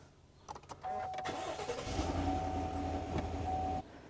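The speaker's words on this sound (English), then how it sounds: "I'm gonna start this truck up" A truck engine cranks briefly and catches, then settles into a steady mid-pitched idle with a faint whine, heard close and alone for a few seconds before cutting off.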